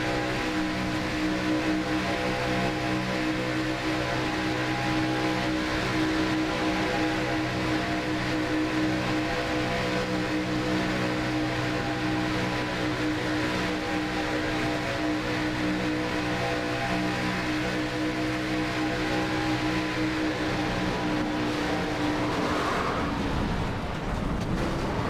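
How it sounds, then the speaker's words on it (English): Simulated NASCAR stock car engine from the 2005 Daytona 500 in the iRacing game, a steady loud multi-tone drone with shifting harmonics, holding for most of the stretch before a sharp drop and rev change near the end. "You can hear him downshifting when that happened"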